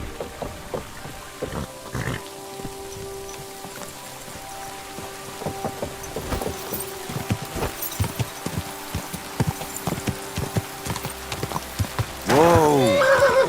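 In the video game Kingdom Come: Deliverance 2, a horse's hooves clop irregularly over ambient rain-like patter, then a loud, close neigh rings out near the end.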